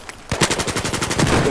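Rapid automatic gunfire from a Battlefield 4 firefight, a steady burst of evenly spaced loud shots that starts after a brief quiet moment and keeps hammering to the end.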